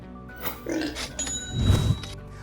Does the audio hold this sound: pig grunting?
yes